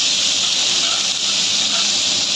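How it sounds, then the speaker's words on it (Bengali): Dried loitta fish frying in hot oil, a loud, steady, close sizzling hiss that carries on without a break. "দিয়ে আমি এটাকে ভালো করে মাখিয়ে তেল দিয়ে ভেজে নেব"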